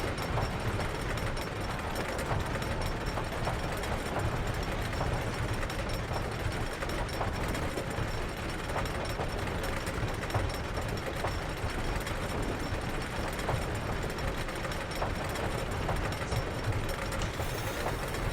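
A wooden roller coaster ride in Planet Coaster, a continuous dense rumble and clatter of the train on its track, steady and loud for the whole stretch with no talk.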